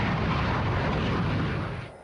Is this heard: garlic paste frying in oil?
no